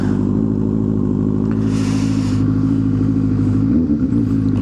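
Benelli 600 motorcycle engine idling after starting, a loud close steady burbling rumble with a slight dip near the end, no speech.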